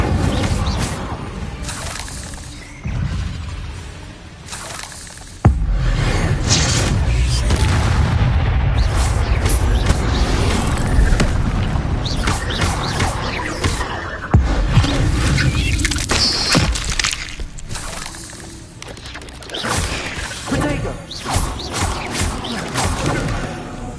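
Fire spells cast repeatedly in the wizarding game Hogwarts Legacy: loud, dense bursts and booming impacts over a sustained roar of combat effects, with occasional sharp crashes throughout.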